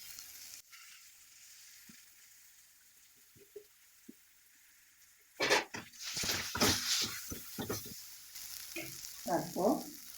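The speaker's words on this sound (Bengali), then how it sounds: "নেড়ে চেড়ে ভেজে নেব। এটা আমি সরষের তেল দিয়ে করছি।" A mashed potato mixture fries in mustard oil in a pan. After a quiet start with a few light knocks, a burst of sizzling and scraping stirring begins midway and continues in uneven strokes, with no voices.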